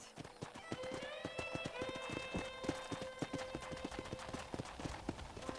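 Steady rhythmic clip-clop of horse hooves at a trot in the video game Red Dead Redemption, close and clear, over a constant ambient bed, with a faint horse snort in the middle.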